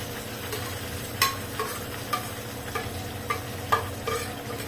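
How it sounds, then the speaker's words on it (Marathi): Ground masala paste of onion, coconut, cumin, garlic and coriander fries in two spoons of hot oil, a soft steady sizzle broken by several sharp spatula taps and scrapes, close and with no speech. "आता तेल छान गरम झालेलं आहे। आपण हा जो मसाला वाटून घेतलेला होता तो टाकायचा पहिले."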